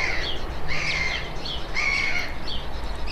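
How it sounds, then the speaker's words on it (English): A tern screams overhead on an early morning at Auschwitz, giving a few harsh, piercing calls in short bursts against a steady outdoor background. "That's a tern screaming above us."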